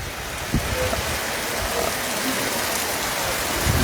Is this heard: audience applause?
no